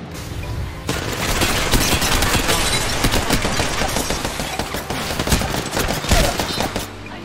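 Dense automatic gunfire from Apex Legends starts after a near-silent second and continues as a loud, sustained hail of rapid shots, with occasional heavier booms, to the end.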